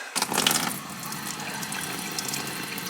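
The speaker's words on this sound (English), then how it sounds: "Water's coming out just at freezing." Near-freezing water from a tap pours steadily into a shop sink, a close, even splashing rush that starts abruptly and keeps running alone.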